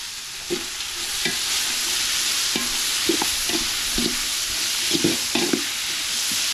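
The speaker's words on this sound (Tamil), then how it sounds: "தக்காளி வதங்குறதுக்கு உப்பு சேர்த்துக்கிறேன்" A steady loud sizzle of tomatoes frying in a pan, with a spoon scraping and stirring in repeated short strokes.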